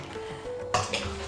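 Fish pieces being mixed with chilli and coriander powder in a metal bowl, giving soft scraping and stirring sounds with a couple of light clinks against the dish, close and fairly quiet.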